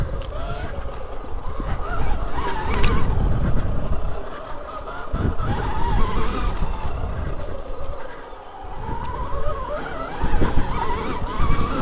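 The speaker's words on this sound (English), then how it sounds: "All you hear is the fan." Cooling fan of a Stark Varg electric dirt bike, a 35-horsepower machine ridden on a wooded trail loop, whirs steadily with a thin high whine over a broad rushing noise that swells and dips as the bike moves over terrain.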